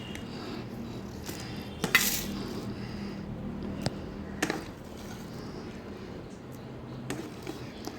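Cooked curry is transferred from one pot to another in a home kitchen, a quiet run of scraping and a few sharp clinks of a spoon against the metal pots.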